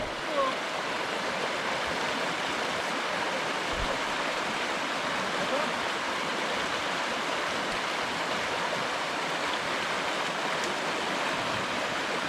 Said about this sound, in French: Alors il y a beaucoup d'eau aujourd'hui.